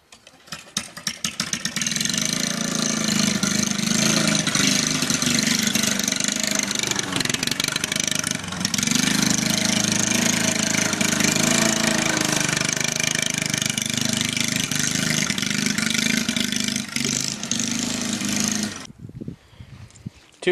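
A 148cc push mower engine fitted with a two-inch truck exhaust pipe run into the original muffler, idling loudly and steadily with a raspy drone for most of the span before cutting off near the end.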